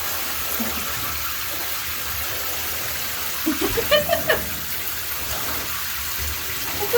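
Warm water runs steadily into a bath being filled for a dog, making a continuous gushing, splashing wash. A brief burst of voice or splashing cuts through partway.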